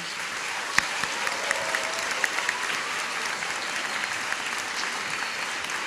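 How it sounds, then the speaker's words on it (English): Sustained applause from a graduation audience, a broad even wash of many hands clapping, a few sharper claps standing out, no talking. "A round of applause for 5 Orange."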